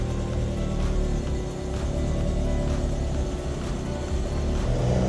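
Restomod Alfa Romeo Junior GT driving along, a steady low engine and road rumble heard from inside the car, constant and moderately loud throughout.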